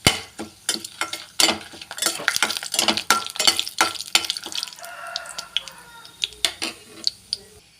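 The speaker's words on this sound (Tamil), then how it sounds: "2 காஞ்ச மிளகாய், எடுத்து வச்சுருக்கிற சோம்பு, இது எல்லாமே நல்லா வறுபடுத்து வைக்கிறேன்." Dry red chillies and fennel seeds roast and are stirred in a pan, giving bursts of sharp scraping and crackling in an uneven rhythm, close and moderately loud.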